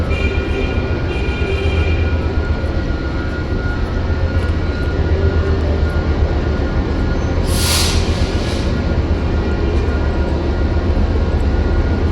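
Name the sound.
Amtrak passenger train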